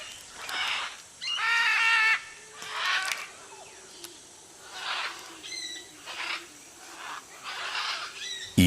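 Green macaws (lapas verdes) feeding on almond kernels give a series of harsh, raspy calls, spaced irregularly and fairly close, with quiet pauses between bursts.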